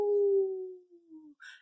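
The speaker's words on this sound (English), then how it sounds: "I couldn't get to sleep when the wind began to howl" Wind howls at night in a single long, loud, sustained tone that slowly falls in pitch and fades, with a brief higher chirp right after.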